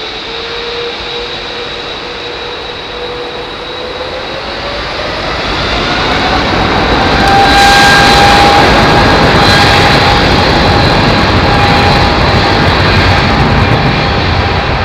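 Jet airliner engines spooling up on the take-off roll up a sloping runway, a rising whine building into a loud broadband roar that swells near the middle and holds steady, with no talk.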